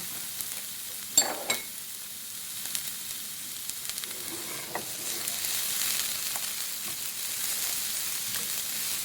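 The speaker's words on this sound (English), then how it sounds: "I've just added a little bit of oil to the pan here, and then we're going to fry" Garlic, ginger, lemongrass and chili fry in oil in a pan for a Thai green curry, a soft steady sizzle broken by a few sharp clinks of a utensil early on.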